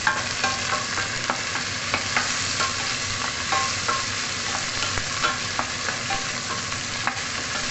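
Hot oil spattering steadily in a frying pan while cooking sinigang, a dense continuous sizzle with scattered sharp pops, close and fairly loud, no voices.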